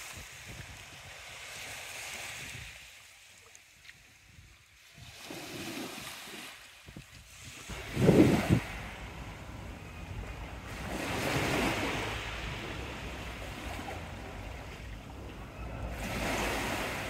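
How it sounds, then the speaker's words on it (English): Waves on a fairly calm sea wash in along the Teignmouth seafront in slow, rolling surges that rise and fall, with some wind and a brief knock partway through. "Should get some nice sound to the waves with the wind blocker off."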